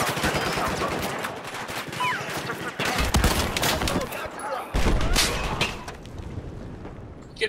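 Battlefield 4 gunfire in close-quarters play, with loud rapid bursts of automatic fire and sharp single shots in clusters, a heavy thump near the middle, and bursts dense and near throughout.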